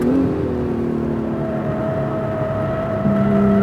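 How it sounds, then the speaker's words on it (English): An Acura NSX race car's engine drones on a track, holding a steady tone and stepping down in pitch through two downshifts, with a brief rise as revs climb at the end. "2 downshifts."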